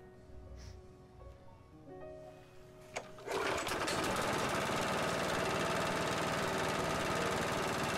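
An overfilled petrol lawn mower engine burning off excess oil: a low background hum breaks into a loud, dense, rattling roar around three seconds in, then holds steady and close until the end.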